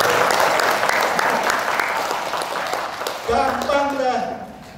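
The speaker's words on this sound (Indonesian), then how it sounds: "Tepuk tangan loh Ibu sekalian" Women in the audience at a cultural oration event in Karawang clap together for several seconds. The applause tapers off and a voice starts speaking near the end.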